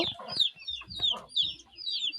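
Several chickens and chicks cluck and chatter close by in short, overlapping bursts, with higher peeping calls woven throughout, on a farm.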